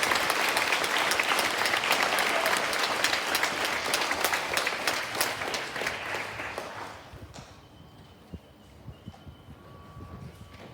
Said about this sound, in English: Can we please give our award winners for 5-6D a big round of applause?